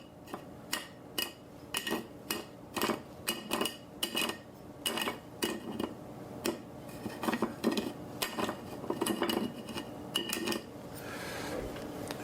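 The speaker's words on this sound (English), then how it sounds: "Then I'm going to sugar my glass" Glassware and utensils clink and rattle while a cocktail glass gets its rim sugared, with busy, irregular clatter throughout and a steady kitchen background.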